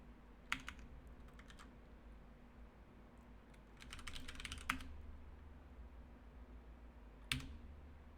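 Bursts of typing on a computer keyboard, quick clusters of soft key clicks separated by pauses over a low steady room hum, close and fairly quiet.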